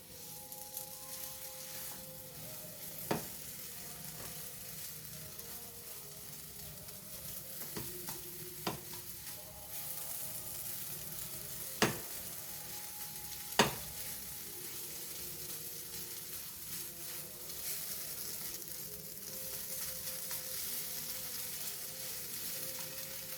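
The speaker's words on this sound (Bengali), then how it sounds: "আমি ফ্লেমটা একটু জোর করে দিলাম। এবার এটাকে আমি খুব ভালো করে ভেজে নেব।" Potatoes for a potato curry fry over a high flame, a steady broadband sizzle running throughout with a few sharp spatula scrapes and taps against the pan.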